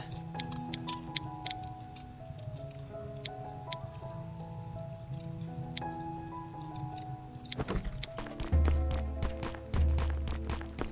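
Rapid footstep taps of players in a shooter video game patter steadily under background game sounds. They grow louder and denser near the end, along with sharper clatter.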